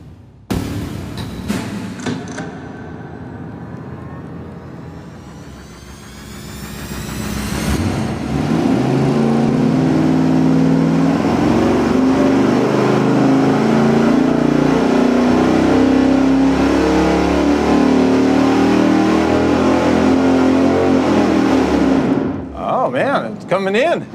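Car engine on a dynamometer during a camshaft timing test, revving loudly and holding a steady high-rpm pull for most of the run after a few short blips, then dropping off at the end; voices talk in the background.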